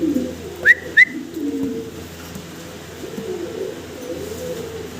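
Fancy pigeons coo in a low, continuous murmur nearby, broken early on by two short, sharp whistling chirps.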